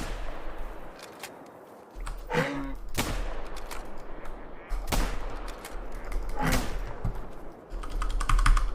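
Gunshots in a point-and-click game under development, sharp loud cracks arriving in irregular bursts amid clicking, with a few separate shots standing out over a low steady hum.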